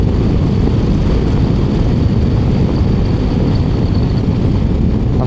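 A 2025 Harley-Davidson CVO Road Glide Raven Fade riding in third gear, its engine and quiet exhaust buried in a steady, dense roar of wind and road noise that holds constant throughout.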